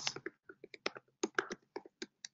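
Quick, irregular clicks of keys being typed on a computer keyboard come in short bursts, close and fairly quiet, with no talking.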